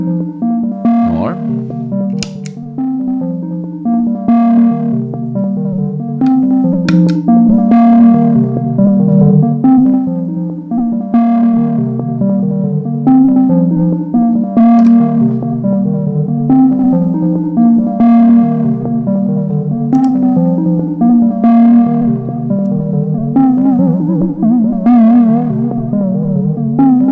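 Electric guitar played through lo-fi cassette-style distortion pedals: a warbly, wavering tone with gritty saturation and echo, picked notes and chords ringing in a slow, continuous phrase, loud and upfront.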